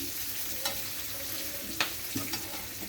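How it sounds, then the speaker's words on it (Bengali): Chopped onion fries in oil in a wok with a soft, steady sizzle, broken by a few light scrapes and taps of a stirring spoon; quiet and close, with no voices. "একটা কুচানো পেঁয়াজ আমি দিয়ে দিয়েছি একটু ভাজি ভাজা করে নিচ্ছি"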